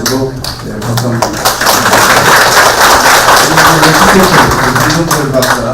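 An audience at a Buddhism and Fourth Industrial Revolution workshop applauds a Buddhist graduate school dean, a steady, dense patter of many hands lasting throughout, with a voice speaking faintly over the clapping.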